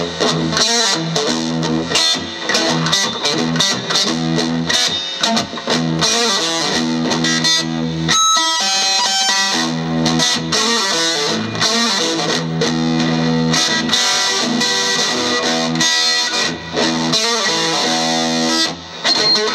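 An electric guitar played through reverb, with a distorted, effects-laden tone, rings loud and continuous with dense, sustained notes and no pauses.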